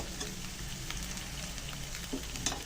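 Food sautéing in a little oil in a pan gives a soft, steady sizzle and crackle, with faint stirring clinks near the end.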